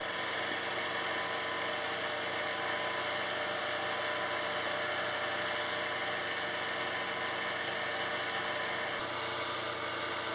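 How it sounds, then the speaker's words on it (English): A lathe turns down a rudder part with a steady, continuous high-pitched whine and machine hum that stays constant throughout, with no talking. "I'm gonna lathe this right here."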